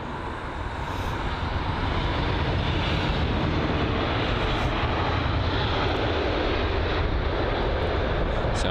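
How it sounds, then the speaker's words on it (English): A Lufthansa Airbus A320neo from Frankfurt passes at London Heathrow with a dense, sustained jet roar that rises slightly and stays loud and continuous throughout. "the Lufthansa A320 Neo from Frankfurt"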